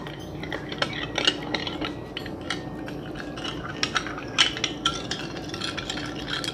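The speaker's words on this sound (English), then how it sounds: "I'm gonna give this a nice stir because I want the sugar to be dissolved" A spoon stirs sugar into milk in a bowl, making quick repeated clinks and scrapes at close range with short pauses, light and without talk.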